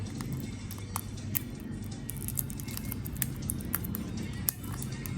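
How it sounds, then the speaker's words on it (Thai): Steady patter of rain with scattered drips and taps, continuous and fairly close, no voices. "นี่ฝนตกตกอีกแล้วครับบรรยากาศเย็นสบายไม่ร้อน"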